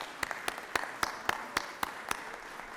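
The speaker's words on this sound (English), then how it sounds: "Give her a round of applause." Scattered applause rises from the Georgia Senate gallery, heard from a distance as a soft wash of clapping broken by a regular series of sharp, loud claps.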